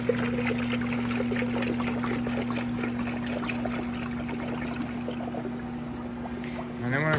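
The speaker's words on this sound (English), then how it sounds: "Put your funnel on there," Coolant trickles and gurgles through a funnel into a 2011 Lexus LS 460 during a thermostat job, a steady pouring stream over a constant low hum that swells briefly at the end.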